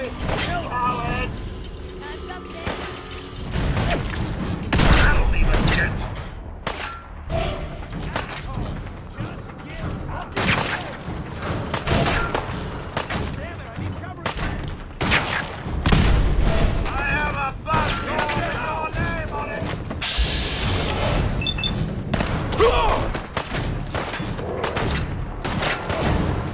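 Gunfire and heavy thuds from combat in Fallout 4 on survival difficulty, with repeated sharp cracks and booms spread through a busy game soundscape, while voices talk throughout.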